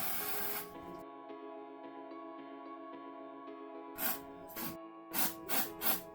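Spray hisses in several short bursts over an aquarium hardscape, separated by pauses and preceded by a long faint tonal hum.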